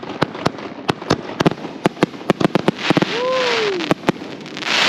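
Shogun Pandora's Box 25-shot fireworks cake going off at a night show, a rapid string of sharp loud bangs and crackles with a whistling rise near the end and a burst of hissing crackle after.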